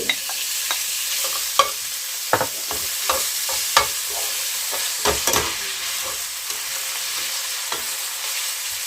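Minced pork frying with garlic in oil in a wok, a steady sizzle broken by repeated sharp scraping clatters of a spatula stirring, close and alone without talk.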